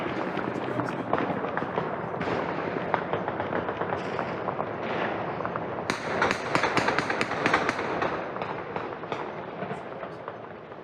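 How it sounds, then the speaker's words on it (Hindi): Taliban fighters fire tracer rounds in celebration over Kabul city, producing rapid, irregular cracks and pops at a moderate distance. The shots grow denser and sharper in clustered volleys toward the end. "ये वीडियो काबुल सिटी का है जहां पर ट्रेसर राउंड्स को फायर करके तालिबान की तरफ से सेलिब्रेशन की जा रही है।"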